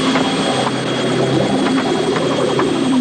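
Helicopter rotor blades in a 1970s zombie film beat loudly and steadily throughout, a continuous thudding whir that holds at close range for about three seconds before cutting off abruptly.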